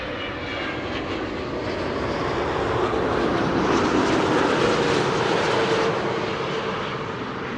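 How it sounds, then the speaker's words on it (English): Delta Airlines flight 136 from Detroit arriving at Amsterdam Schiphol Airport, a jet airliner's steady roaring engine noise that swells slightly and then eases, heard alone at moderate distance. "Delta Airlines 136 arriving from Detroit, Michigan."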